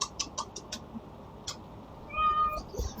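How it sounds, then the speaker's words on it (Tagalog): A cat gives a short, soft meow close by after a few faint ticking clicks, heard against quiet room background. "super malambing na na pusa"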